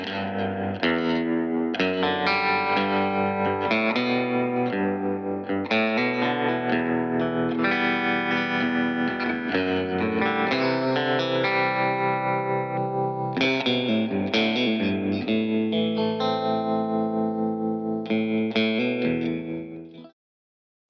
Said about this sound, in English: Here's an audio sample of a Stratocaster being played through the AC15.